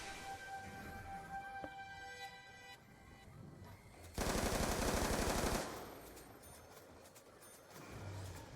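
MTAR assault rifle in a zombies video game fires one loud, dense automatic burst of about a second and a half, rising above quieter in-game sounds before trailing off.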